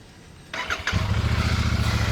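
A Royal Enfield Meteor motorcycle is restarted close by: a short starter crank catches within half a second and settles into a steady, deep, thumping single-cylinder idle that runs on evenly. No one speaks.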